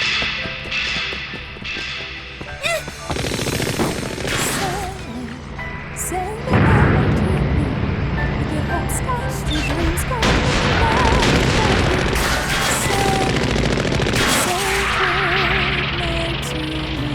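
Fire Dragon Kong, a huge tank in the Desert Punk anime, firing its guns in a desert setting: repeated heavy booms and rapid volleys with crashing impacts, loud and close, with bursts of dubbed dialogue between them.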